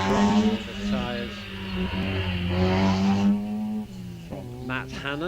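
A car on the Wiscombe Park hillclimb course, with a loud, near engine revving in rising and falling harmonic sweeps and tyres squealing through the S bends, shifting pitch as it accelerates and brakes.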